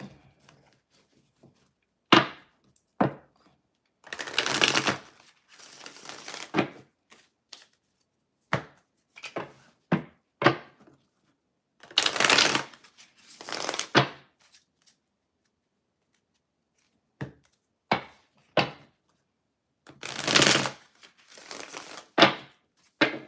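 A deck of tarot cards is shuffled by hand, heard as close, intermittent bursts of papery riffling and sharp slaps separated by quiet pauses, with no talking.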